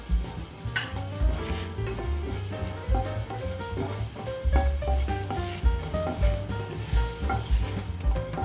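Coriander seeds dry roasting in a kadai give a continuous crackly scraping as they are stirred, with repeated rhythmic knocks of a spatula against the metal pan.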